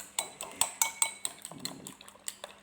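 Eggs are beaten in a bowl with a utensil for Thai steamed eggs, a quick run of sharp clinking taps against the bowl in uneven rhythm, close and clear.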